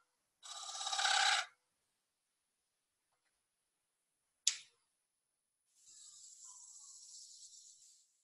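A hand tool scrapes texture into a wooden surface in two rasping bursts, a brief one and then a longer, steadier stretch, separated by silence and a single sharp tick, with no talk.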